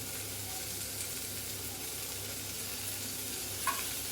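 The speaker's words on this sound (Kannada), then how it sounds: "ಇದನ್ನು ಫ್ರೈ ಮಾಡ್ಕೋಬೇಕು. ಸಣ್ಣ ಉರಿಯಲ್ಲಿ ಇಟ್ಕೊಂಡು ಫ್ರೈ ಮಾಡಿ ಆಗ ಚೆನ್ನಾಗಾಗುತ್ತೆ" Spinach and chopped coriander fry in a pan over low heat, giving a steady, soft sizzle that runs evenly throughout, with one small tap or clink near the end.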